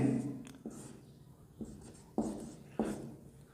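Pen writing by hand on paper while working a linear-equations math exercise, heard as a series of close, soft scratching strokes with small taps where each stroke begins, no voice present.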